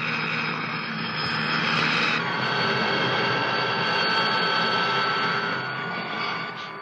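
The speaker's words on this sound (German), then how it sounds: "Sehen Sie den Hubschrauber da?" A helicopter flies overhead in the film Fantomas, a loud, sustained engine drone with a high whine that shifts pitch partway through and then holds steady before easing slightly at the end.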